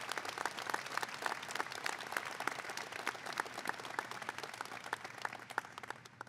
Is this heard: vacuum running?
no